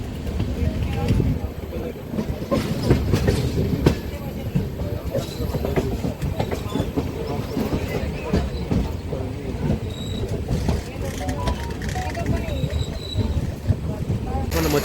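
The Golconda Express rolls from Vijayawada toward Secunderabad, heard from inside an unreserved coach as a steady rumbling rattle of wheels that carries on throughout, with passengers talking over it.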